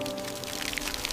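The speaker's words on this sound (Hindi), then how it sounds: "बारिश की बूंदें पीठ पे गोलियों की तरह चुभ रही है" Heavy raindrops falling, a soft steady patter and hiss of rain with scattered drop impacts, fairly quiet and continuous.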